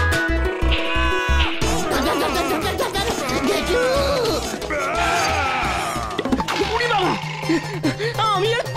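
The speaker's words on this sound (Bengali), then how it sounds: "এটা আমার ভাড়ায় পোষা ছাগল হলধরদা, বুলু ডগ জাতির।" A goat bleats repeatedly at close range, its calls mixed with thumps, knocks and lively talking voices throughout a comic scene.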